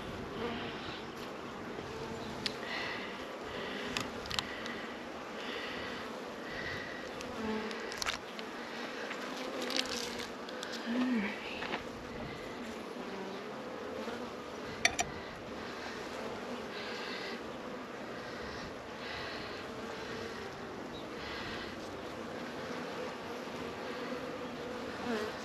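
Honeybees buzzing and fanning at a stump hive outdoors, a continuous close insect hum with occasional louder passes of individual bees, at a fairly faint, steady level.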